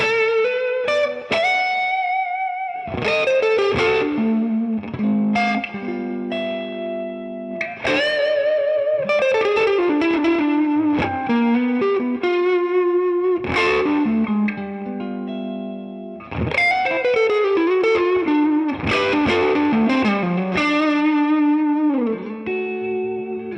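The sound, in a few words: electric guitar on neck pickup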